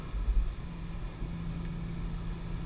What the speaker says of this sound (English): kind of like a sports car-ish sound from that exhaust